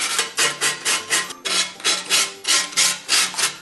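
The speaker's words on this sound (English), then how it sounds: "I'm just going to very lightly brush the area that I need to glue with some sandpaper" Sandpaper lightly rubs the broken edges of a ceramic piece before gluing, giving about ten rhythmic, even back-and-forth rasping strokes, close and clear with no talking.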